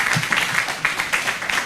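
A summit audience at Central University applauds in a steady, dense burst of clapping, close and fairly loud, with no talk over it.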